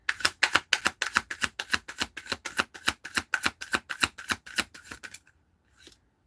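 Tarot cards are shuffled close up in a fast, even run of about two dozen crisp papery riffles, followed by a short pause and one last soft card sound.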